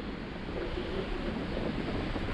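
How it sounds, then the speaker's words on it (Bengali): Strong wind gusting at the Pamban sea bridge, a steady, loud roar buffeting the microphone over the sea, with possible surf beneath and no talking. "অসম্ভব হাওয়া, অসম্ভব যা হাওয়ার বেগ, দুর্দান্ত"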